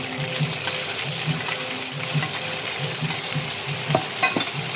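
Chicken for a paratha roll sizzles steadily in a pan, a constant close frying hiss with occasional stirring clicks and scrapes, while faint music drifts in from a wedding nearby.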